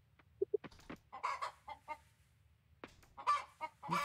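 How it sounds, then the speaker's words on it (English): Chickens in the Coral Island farming game cluck in short, agitated bursts, several sharp calls at the start and then louder squawking runs, close and clear over a quiet background. "These chickens are so angry at me."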